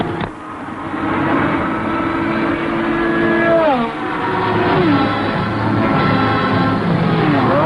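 Race cars roar past at the Monaco Grand Prix, a loud, dense engine drone with several rising and falling pitch sweeps as cars pass close by, continuous and without talk.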